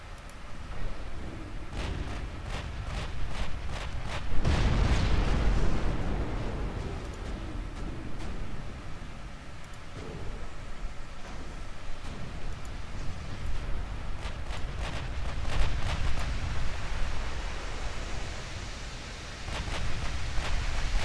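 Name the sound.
naval guns firing high explosive shells in video game Ultimate Admiral Dreadnoughts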